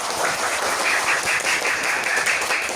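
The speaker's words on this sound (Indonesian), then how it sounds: "beri tepuk tangan untuk kita semua" Students in a classroom break into loud, dense applause that stays steady and unbroken for several seconds, close and filling the room.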